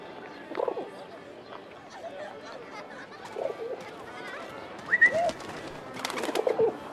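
A pigeon cooing in the game 11-11: Memories Retold, soft repeated coos and a few brief bird calls at moderate distance, mixed with people talking.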